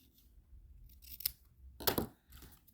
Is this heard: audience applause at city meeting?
no